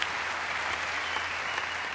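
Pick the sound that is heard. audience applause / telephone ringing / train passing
audience applause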